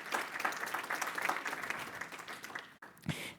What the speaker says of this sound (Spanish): Les damos un aplauso para recibirlos en esta tarde.